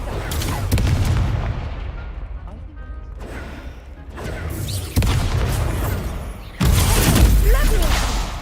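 A Confringo fire-blast spell explodes in Hogwarts Legacy, heavy booming blasts and crashing impacts over a rumbling low end, with a fresh loud burst near the end and a voice speaking in places.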